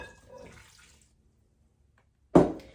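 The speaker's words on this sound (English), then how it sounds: "I'm gonna go ahead and add in my warm water." Warm water poured into a bowl of bread dough ingredients for cinnamon raisin bread, a short close splash near the end after a faint earlier rustle and a quiet pause.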